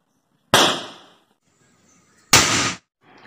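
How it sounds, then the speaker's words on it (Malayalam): An electrically ignited firecracker, set off by current passing through it, bursts in two sharp, loud close cracks, each trailing off in a decaying rumble, separated by a second or so of near silence. "അങ്ങനെയാണ് ഈ ഒരു പടക്കം പൊട്ടുന്നത്"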